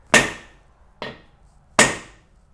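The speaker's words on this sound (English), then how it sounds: "I like to get a little bit of a heavier hammer, and we'll just give it a few more whacks" Vintage Plumb axe under restoration, a heavier hammer driving a large wooden wedge into the axe handle: four sharp, close whacks with short decays, spaced under a second apart, with no talking.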